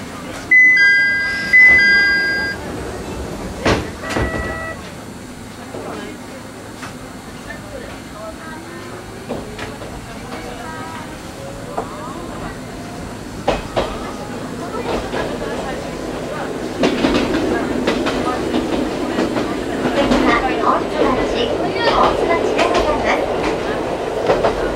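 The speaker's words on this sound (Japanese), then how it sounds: "まもなく発車いたします。" At a station a chime sounds, then an Ichibata Electric Railway limited express train pulls away, its wheels clicking and rumbling louder and steadier over the rails.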